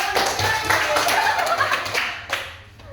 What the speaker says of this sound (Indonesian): tepuk tangan lagi buat